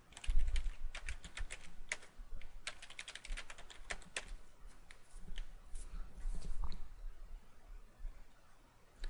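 Someone types a new password on a computer keyboard, a steady run of quick, close key clicks with brief pauses and a few heavier strikes, no talking.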